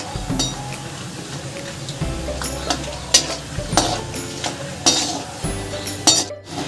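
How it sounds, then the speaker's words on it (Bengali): Peanuts fry over low gas in a wok, their sizzle broken by repeated scraping stirs and clinks of a metal spatula against the pan, loud and close throughout. "বাদামগুলোকে ভালো করে এবার ভেজে নেব।"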